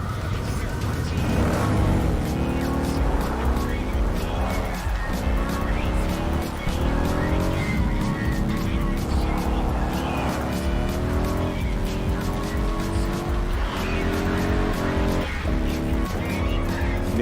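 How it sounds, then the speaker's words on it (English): A motorcycle engine from the video game Cyberpunk 2077 revs through repeated rising and falling pitch sweeps, loud and continuous across the whole stretch, layered with other dense game sound. "I could definitely blindfolded tell that that's the Method 143-ish sounding motorcycle."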